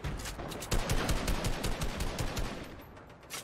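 Fast bursts of gunfire in Fortnite during a World Cup qualifier duo match, a rattling series of closely spaced shots that fades slightly toward the end.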